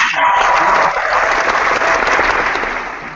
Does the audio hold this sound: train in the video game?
no